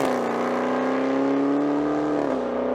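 Dodge Charger Hellcat engine revving, a loud rising mechanical roar with a strong whining harmonic tone that climbs steadily, then dips slightly near the end.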